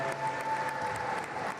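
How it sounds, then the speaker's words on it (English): Audience applause for a dabke dance group at a Lebanon Day celebration at Cleveland City Hall, a steady, dense wash of clapping from a crowd, moderately loud and continuous for a moment with no talk over it. "Please give them a big applause"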